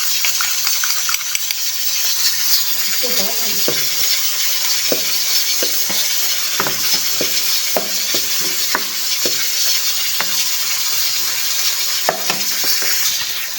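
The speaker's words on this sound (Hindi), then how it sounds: "हमारा मसाला फ्राई हो गया है।" A masala of ginger-garlic paste, tomatoes and green chillies fries in a pan with a loud, continuous sizzle, punctuated by regular scraping clicks of a spoon stirring, close up with no talk.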